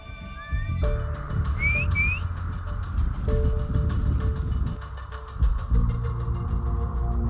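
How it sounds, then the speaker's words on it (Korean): A few sharp rising whistles ring out over steady outdoor rustling and background noise on a mountainside during a wild boar hunt, a distinct signal call. "휘파람으로 신호를 보내본다."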